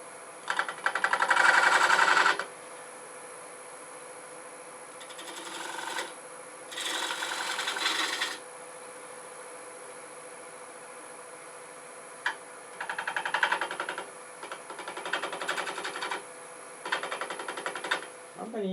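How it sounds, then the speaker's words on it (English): A wood lathe turning a bead on a bottle stopper with a detail gouge gives bursts of rasping cutting noise between quieter stretches of motor hum. The cutting is close and moderately loud. "I'm going to go ahead and use my detail gouge"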